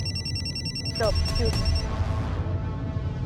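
A telephone rings briefly with a few bright electronic chirps over steady background noise, then the ringing stops.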